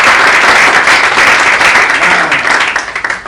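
An audience bursts into loud, dense applause, a sustained wash of many hands clapping that begins to thin out toward the end.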